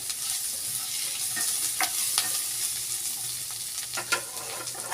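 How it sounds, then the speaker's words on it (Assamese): Turmeric being stirred in an oily frying pan, the spoon scraping in soft irregular strokes over a steady close sizzle, with a few sharper clinks of metal; no talking. "মই হালধি দিছোঁ আধা চামুচৰ জোখত আৰু লৰাই ল'ম প্ৰথমতে।"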